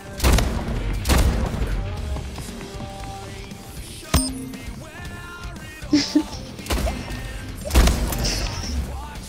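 Gunfire from the sci-fi arena shooter Splitgate crackles in sustained bursts with sharper booms and impacts scattered throughout, loud and busy, under a steady game soundscape.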